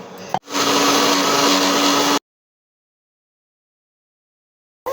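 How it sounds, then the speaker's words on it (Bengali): A kitchen blender grinds ginger, onion, garlic, green chili and tomato into a paste, a loud, steady motor whine that starts abruptly, runs for nearly two seconds, then cuts off into silence before a brief restart at the end. "রয়েছে আদা, পেঁয়াজ, রসুন, কাঁচা লঙ্কা আর টমেটো। চলো এগুলো পেস্ট করে নিই।"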